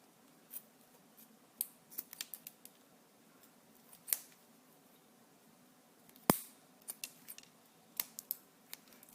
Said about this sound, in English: You'll just take some scissors and trim that.